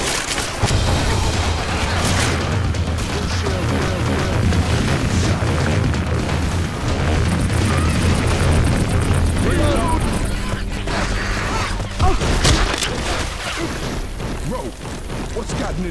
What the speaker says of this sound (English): Deploying explosive round.